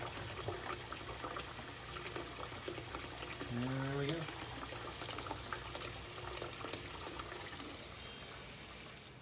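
Pump on a RoboBrew all-in-one brewing system sprays and splashes water continuously, a steady watery hiss and churn throughout, with a brief voice speaking partway through.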